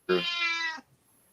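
A cat gives one clear, close meow that rises and then trails off, heard alone in a quiet room.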